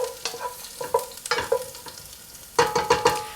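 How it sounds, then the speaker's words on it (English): Garlic is stirred in a hot frying pan for a Mesopotamian beef stew, with repeated scraping strokes over a steady light sizzle, close and clear. "So I'm gonna add that and also add about half of the garlic. Just gonna continue stirring it."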